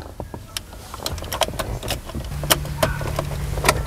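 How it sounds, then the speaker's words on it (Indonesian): Key sliding into the ignition of a 2013 Mitsubishi Pajero Sport Dakar Limited: a series of small metallic clicks and scrapes close by, with a low steady hum starting partway through. "untuk kuncinya, nah ini masih menggunakan anak kunci biasa seperti ini. Dicolokin."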